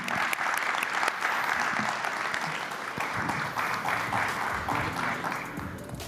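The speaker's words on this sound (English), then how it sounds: "I ask you for a warm applause to our young Jedi" A conference audience at the Euroconsumers Forum in Portugal gives sustained, warm applause, many hands clapping densely and evenly for several seconds in a large hall, slowly tapering toward the end.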